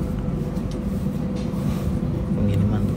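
A Sprinter locomotive runs on the rail line, giving off a continuous, fairly loud low rumble with rattling and clattering of the cars, heard from close by with talking over it.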